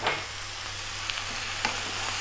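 Zucchini and other vegetables cook in a pot while being stirred, with a faint continuous sizzle and a few light scraping clicks against a low steady hum.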